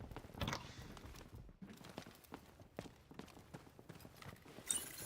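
Footsteps in the video game Delta Force, a fast steady run of soft thuds and scuffs repeating for several seconds over a dull ambient bed, fairly faint, no talking.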